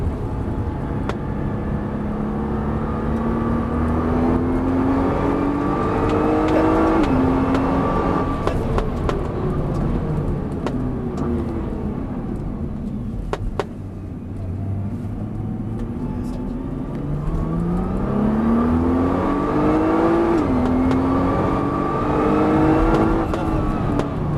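A car on a racing circuit during a passenger ride accelerates hard, the engine pitch climbing through the gears with brief drops at each shift, close and loud from inside the cabin, easing off midway before pulling again, with an instructor talking.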